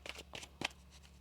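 A tarot deck gets riffled in a few quick, close bursts of card-flutter, three short soft shuffles in about a second with no voice over them.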